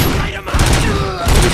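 Gunfire in the RoboCop: Rogue City video game, a dense fusillade of shots with heavy thumping low end, continuous across the clip with brief dips, mixed under game sounds.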